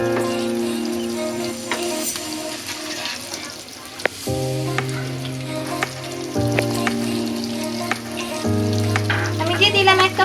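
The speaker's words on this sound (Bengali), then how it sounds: "পেঁয়াজগুলোকে একটু ভালো করে ভেজে নিব।" Onions frying in oil in a pan while a rohu fish curry with bean seeds is made, a steady loud sizzle carrying on throughout with occasional stirring clinks and bursts of crackling.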